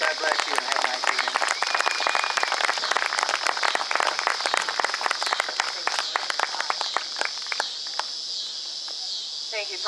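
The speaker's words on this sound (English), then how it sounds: "I'd like everyone to give a round of applause to all the veterans that are here and thank them for their service" Audience applause for veterans at a salute ceremony in St. Marys, Ohio, a steady dense clapping from a crowd across the whole stretch, with voices mixed in.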